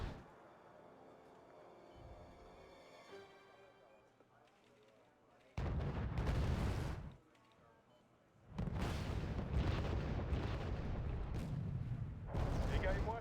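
Rocket strike explosions in Arma 3 during a castle assault: low, quiet background noise, then a sudden loud roaring blast about a second long, followed by a sustained, heavy rumbling barrage of impacts lasting several seconds.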